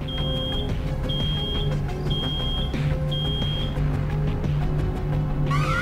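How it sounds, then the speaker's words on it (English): In-game alarm from the video game Road 96, a steady high repeating beep in regular pulses over a continuous engine-like hum inside a vehicle, with no talking. "Oh no, something's beeping."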